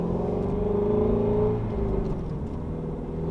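A Ford Mustang GT350 fitted with a Corsa exhaust drives along, giving a steady low engine rumble and drone with a slight rise in revs, heard from inside the car with no talking.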